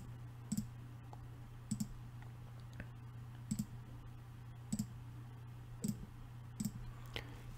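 Soft, close computer mouse clicks while outlining shapes in Inkscape, coming in small double-click pairs spaced roughly a second apart over a steady low hum.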